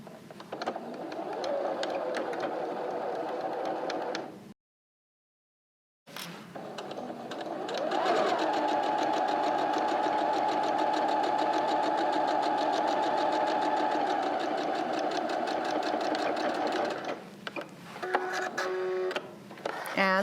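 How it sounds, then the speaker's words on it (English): A sewing machine runs a steady, close stitch along the edge of a face mask's fabric to form an elastic casing. A short burst comes first, then a brief silence, then a long continuous run that tapers into a few stops and starts. "So I'm just going to do an 1/8 inch seam right along the edge of my fabric."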